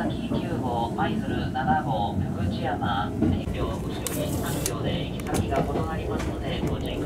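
Inside a new JR West express train on the San'in Main Line, a steady low rumble of the carriage runs throughout while a voice talks over it.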